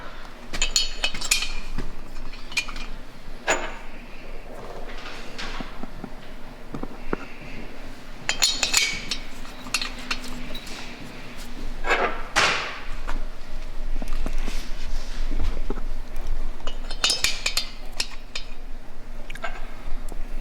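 Stock Harley head bolts for a Road Glide big bore rebuild clink and tap against metal as they are handled, intermittent bright clinks and light thuds close by over steady background hum.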